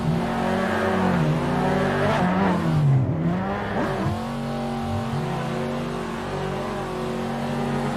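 A high-pitched sports car engine in a drifting video game whines and revs continuously, rising and falling in pitch as it accelerates, loud and close with tire noise underneath.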